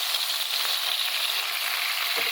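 Meat with peppers, onions, garlic and tomatoes sizzles steadily in a hot pan for carne a la mexicana, a close, continuous bright frying hiss with no talking.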